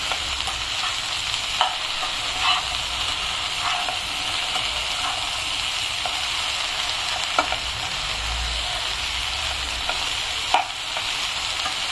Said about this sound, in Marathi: भेंडी आपल्याला काय करायचे, हलकी हलकी आपल्याला परतून घ्यायची आहे.